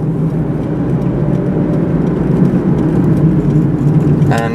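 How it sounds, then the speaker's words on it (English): A car drives along a street and turns left, its engine and road noise a steady continuous whir, with a faint voice briefly at the end. "And we just turned left in the car right now."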